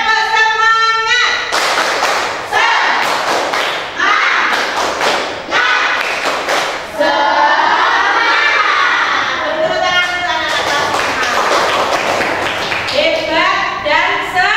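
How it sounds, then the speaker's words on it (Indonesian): A group of Indonesian schoolchildren in a classroom clap in quick rhythmic bursts of a "tepuk semangat" chant, mixed with chanting voices and thumping, loud and close, with sung or spoken phrases between. "Tepuk semangat. Sekali lagi biar tambah semangat."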